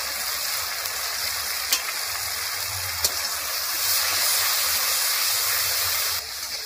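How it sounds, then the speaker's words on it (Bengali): Spice paste of turmeric and chilli powder with salt and a splash of water sizzles steadily in a pan, a constant close hiss with two faint clicks of stirring. "অল্প একটু জল দিয়ে মশলাটা ভালো করে কষে নিয়েছি"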